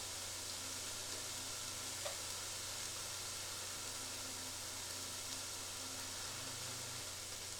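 Garlic and tomato paste sizzle in a hot pan as a steady, quiet, unbroken hiss of frying with no voices over it.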